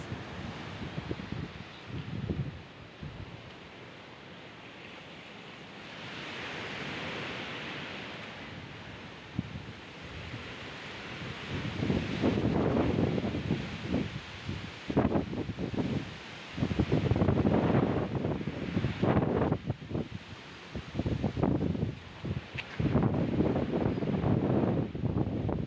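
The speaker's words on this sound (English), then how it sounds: "And look at the waves." Stormy sea waves break at a beach resort in Batangas City under heavy wind that buffets the microphone, with surges of crashing surf building and falling over a constant roar.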